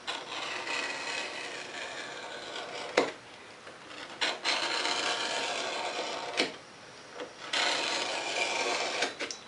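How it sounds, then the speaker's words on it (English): Large breakaway knife slicing through leather for a strop, a long dry scraping drag broken by a few sharp ticks and brief pauses, close and moderately loud. "A rare occasion that I would use a large breakaway knife, but it lets me get right beside this."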